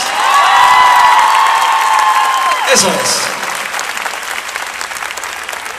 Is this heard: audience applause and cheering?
yes